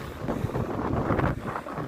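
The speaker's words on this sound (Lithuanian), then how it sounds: "žiūrėkite, kaip čia daužosi vėjas, kokios čia uolos" Strong wind gusting against steep coastal cliffs, buffeting the microphone in close, rough low rumbles and bursts for a couple of seconds.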